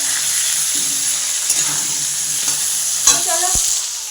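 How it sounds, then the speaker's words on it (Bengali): Chicken being sautéed in a pan for a home meal of fried rice and chicken, giving a steady, close sizzle with occasional scrapes and clinks of stirring, and no talking. "এইদিকে মাংসটা কষিয়ে নিচ্ছি"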